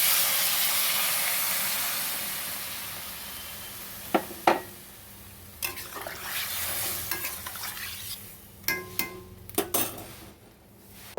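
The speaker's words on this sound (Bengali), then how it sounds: "আমি এবারে জল দিয়ে দেবো।" Water poured into frying mango chutney in a pan sets off a loud, steady steaming hiss, which fades over several seconds into scattered sharp clinks and scrapes of stirring.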